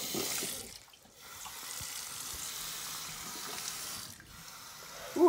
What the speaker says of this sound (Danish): Bare ha kranen på hele tiden.